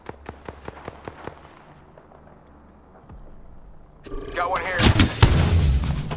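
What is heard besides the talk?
gunfire in the video game Apex Legends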